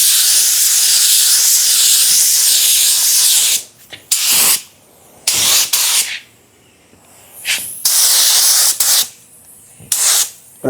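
An inexpensive paint gun sprays clear coat onto a repaired car bumper, a loud continuous hiss for several seconds followed by a series of shorter bursts with brief pauses between passes.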